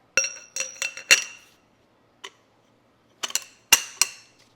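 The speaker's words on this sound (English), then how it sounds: "I'm going to use a regular wrench with a bar." A metal wrench with a bar loosening the rear axle nut on a Ducati 899 Panigale motorcycle: a series of sharp metallic clicks and clinks in two clusters separated by a brief pause, close and fairly loud, with no talking.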